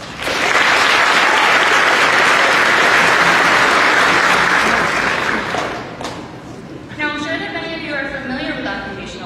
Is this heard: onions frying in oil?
no